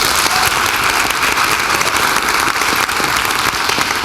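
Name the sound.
audience applause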